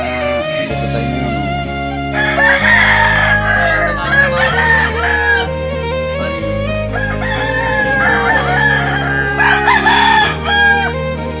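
Roosters and chickens at a poultry farm in Silang, Cavite, loud overlapping crows from several birds close by, repeating every few seconds over a steady background of farm noise.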